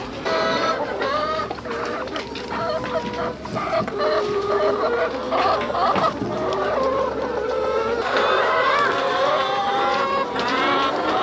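Chickens in a whole new farm pen cluck steadily in a busy overlapping chorus, with a possible rooster crow mixed in, continuous and fairly close throughout.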